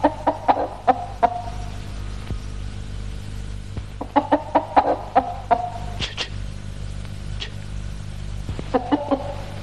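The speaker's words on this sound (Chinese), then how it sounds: "公鸡正等着吃点心呢。" Chickens cluck in short, sharp bursts that come in clusters, close by over a low steady hum, with brief pauses of quiet between the clucking.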